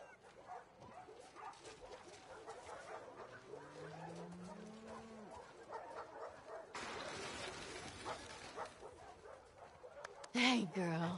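A dog in The Last of Us Part 2 whimpers with a rising whine and then short yips, set among game ambience and character voices talking.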